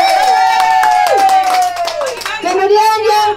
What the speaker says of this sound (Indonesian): beri tepuk tangan yang meriah untuk Ilyas.